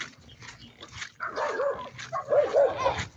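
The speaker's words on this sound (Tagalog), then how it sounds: "Ay, mga tatapang mga aso dito." Several dogs bark and yip outdoors, close and loud, in irregular bursts with a whimpering edge, while people speak nearby.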